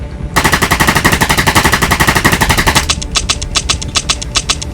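Machine gun fire in an animated Batman comic, a loud, fast, unbroken burst of rapid shots that shifts into sharper, spaced cracks near the end.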